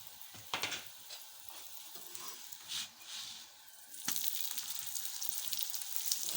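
A radish paratha fries in oil on a pan, soft crackling sizzle with scattered pops and scraping stirs, then a louder, steadier hiss toward the end, close but fairly quiet.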